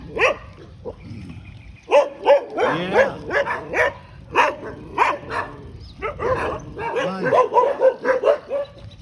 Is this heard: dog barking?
yes